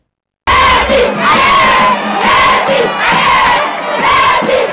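A huge crowd of political party supporters at a Congolese rally chants and cheers loudly, rhythmic rising shouts repeating in waves after a brief silent start.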